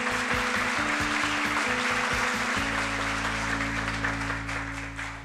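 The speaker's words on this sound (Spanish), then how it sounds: "Renier, un aplauso para él." A television quiz show audience gives steady, sustained applause for a contestant, the clapping running loud and continuous over a rhythmic musical sting throughout.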